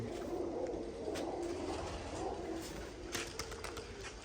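Low, soft cooing of pigeons repeats throughout over a steady background hum, with a few faint clicks and rustles.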